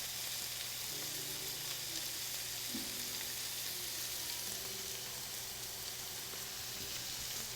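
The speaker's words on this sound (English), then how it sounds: "My pan is still on high heat for this, so there's a lot of moisture in the vegetable that we're working on cooking out." Onion and other vegetables sizzle in a pan over high heat, a steady faint hiss of frying that runs throughout with a low hum underneath and no talking.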